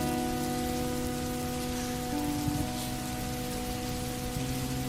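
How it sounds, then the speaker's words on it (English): Heavy rain drums densely and continuously on a car while driving, a loud, even wash with steady tonal hum from the vehicle underneath and no voices. "as the rain crashed down like a"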